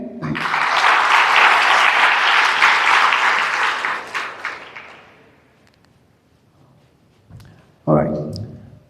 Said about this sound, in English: A round of applause for all these,